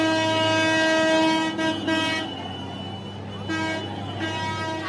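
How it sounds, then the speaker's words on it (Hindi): Traffic jam on the road outside Tihar jail during a protest, with a sustained horn blast from a heavy vehicle standing over steady engine rumble; the tone fades briefly, then returns, loud and close. "ट्रैफिक जैम जो है वो पूरा यहां पर लगा हुआ है"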